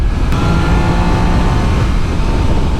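A Triumph Daytona 660 motorcycle, a 94-horsepower road bike, pulls hard under acceleration, its engine a loud, close, continuous roar with wind noise across the whole short stretch.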